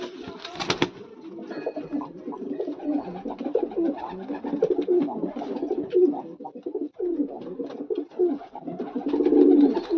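Pigeons coo repeatedly in soft, throaty bursts, close by, with overlapping calls from several birds and a brief rustle near the start.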